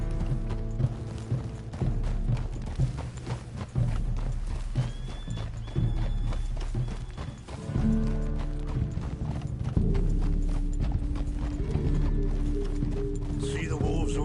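Horse hooves clip-clop steadily at a riding pace in Red Dead Redemption 2, a continuous near rhythm under game music and ambience, with a brief neigh and some talk in the background.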